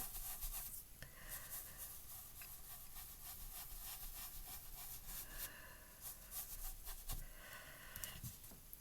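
Ink and pen work on a handmade hot air balloon card gives quiet, continuous scratching and rubbing strokes with a few sharper taps, faint and close against a soft background hiss.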